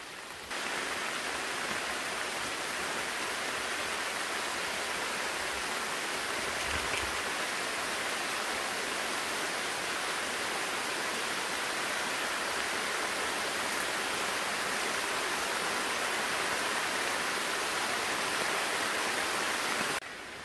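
Heavy rain pours down in a dense, steady hiss under big spruce trees on a mountain, continuing unbroken throughout, loud and enveloping with no voices.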